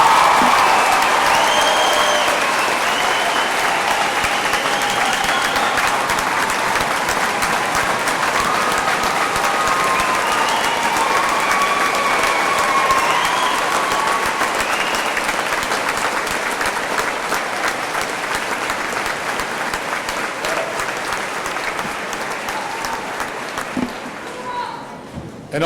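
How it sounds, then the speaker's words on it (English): A graduation ceremony crowd gives sustained, dense applause for students entering the armed forces. The clapping fills the hall evenly before slowly thinning and fading near the end. "Let's have a round of applause for these students."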